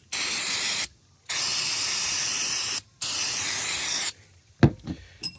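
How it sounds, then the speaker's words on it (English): Three long bursts of aerosol carburetor cleaner spray hiss, close and loud, separated by short pauses, followed by a few light clinks and handling sounds while cleaning Sea-Doo engine head parts. "I'm gonna spray these down with carb cleaner"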